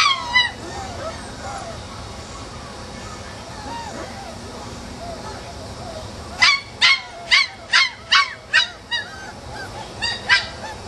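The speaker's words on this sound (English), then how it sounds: "When I walk up to the kennel, if they don't recognize it's me, they'll bark at me." Five-week-old puppies in a kennel let out a quick series of about eight sharp, close barks and yelps near the end, after a stretch of quieter whimpering and background noise.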